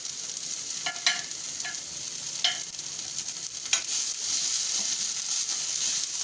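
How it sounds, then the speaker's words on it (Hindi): Paratha filling sizzles steadily in a hot pan as it is fried, a bright continuous hiss broken by several short scraping stirs of a spoon against the pan. "हल्का सा 1-2 मिनट फ्राई करके गैस बंद कर देंगे"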